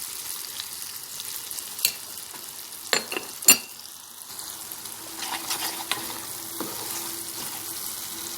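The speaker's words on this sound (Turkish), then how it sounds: "Güzelce kokusu çıkana kadar kavuracağım." Stuffed pepper filling sautéed and stirred in a pan, a soft continuous sizzle broken by a few scraping stirs, close but quiet, with no talking.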